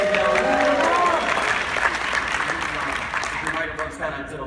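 Applause from an audience at a real estate coaching event in Orlando, Florida, a dense round of clapping with a few whoops that stays strong before tapering off, with crowd noise mixed in.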